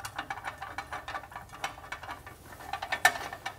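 A ratchet wrench tightens bolts on the legs of an Allegro reformer, giving a rapid, steady series of close, faint clicking strokes.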